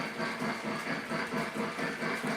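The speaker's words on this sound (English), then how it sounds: "Let me disconnect my cars here and just listen to the engine." A model train locomotive runs uncoupled from its cars, giving a close, continuous mechanical whir and hiss with a regular pulsing rhythm from the motor and wheels.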